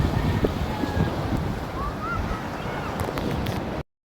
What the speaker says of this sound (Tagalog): basta nasa may tabing dagat tayo